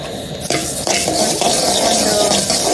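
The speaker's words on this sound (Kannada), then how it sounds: "ಇವಾಗ ಧನಿಯಾ ಹಾಕ್ಕೊಳ್ತಾ ಇದ್ದೀನಿ. ಸ್ವಲ್ಪನೇ ಹಾಕ್ಕೊಂಡು ಇದನ್ನು ಜಾಸ್ತಿ ರೋಸ್ಟ್ ಮಾಡ್ಕೊಬಾರ್ದು" Coriander seeds dry roasting in a pan for homemade South Indian sambar powder, with soft scraping and rattling as they are stirred, a few sharper clinks of utensil against the pan near the start.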